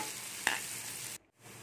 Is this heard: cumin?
yes